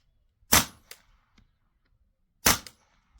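Two sharp, suppressed-sounding shots of subsonic 9mm handloads from a CZ Scorpion, each a short crack with a quick trailing echo, about two seconds apart, fired outdoors toward a distant target.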